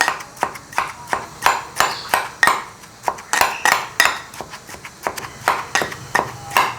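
A small stone mortar (ural) is used to pound spices. Sharp, ringing thuds come one after another in a steady rhythm, close and fairly loud, with nobody talking.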